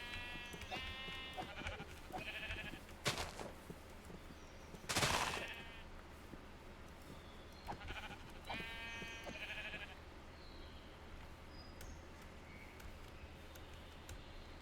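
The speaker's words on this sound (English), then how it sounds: "Oh, there's so many sheep here." Sheep in the Minecraft video game bleat in short, separate calls scattered through a quiet background, mixed with a few sharp percussive game sounds.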